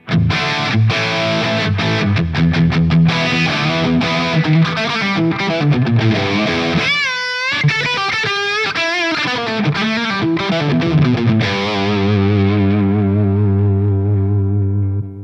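Heavily distorted electric guitar playing fast riffs, then bending sustained notes with wavering pitch, ending on a ringing chord; loud and saturated throughout.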